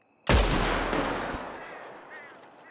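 A sheriff's firing squad fires a single loud, sharp volley of rifle shots in the Red Dead RP game setting, with a long echoing decay trailing off afterward.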